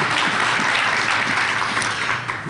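An audience at a skeptics' conference talk claps in steady, dense applause, close and loud, fading slightly toward the end with no speech over it.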